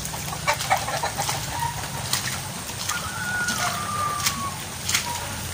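Soft chicken clucks and a few short calls come through over a steady outdoor background noise, moderately distant.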